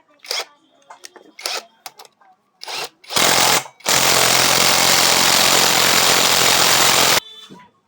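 A 19 mm bolt on the sprocket of a Honda Shine motorcycle being tightened with a power tool, a few short clicks and bursts, then a loud sustained impact-wrench rattle lasting several seconds, close up, no talk.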